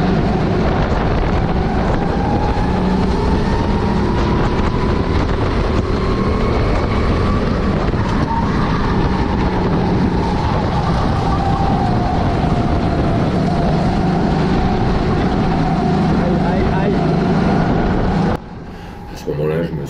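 Go-kart engine during a kart sprint race, a loud continuous buzzing drone that rises and falls in pitch with throttle, heavily mixed with wind rush, with a voice talking over it throughout.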